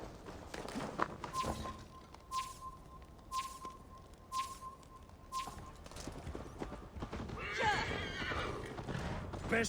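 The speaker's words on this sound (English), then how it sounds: "Best not fall off your horse." A horse in the Assassin's Creed Valhalla video game gives a loud, drawn-out whinny over a steady clip-clop of hooves, with a second whinny and a rush of galloping near the end.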